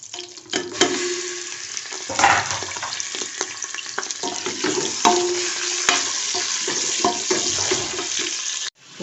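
Goat meat sizzles and spits as it fries in hot oil over browned onions for a Pakistani pulao, a steady crackle broken by louder bursts and stirring scrapes, with no voices.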